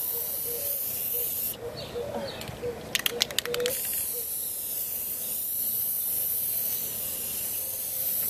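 Aerosol spray can applying clear coat to a car bumper, a steady hiss with a brief ratcheting rattle partway through, near and continuous.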